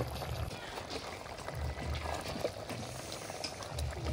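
Chicken simmering in its own released juices in a handi pot, being stirred: a steady bubbling, watery wash with soft low thumps from the stirring, close and continuous.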